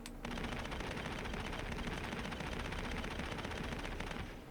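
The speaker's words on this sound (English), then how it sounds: "Did they change how these cannons sound?" Ship cannons firing in Star Citizen, a dense, continuous rapid-fire barrage of loud repeated blasts that runs for several seconds without pause, then cuts off.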